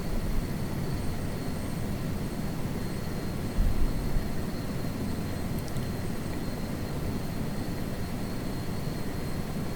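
A helicopter taxiing like an airplane in Flight Simulator 2024, a steady low mechanical drone with a constant high whine, holding evenly for nearly ten seconds with a brief louder thump partway through.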